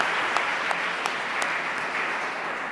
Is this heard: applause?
yes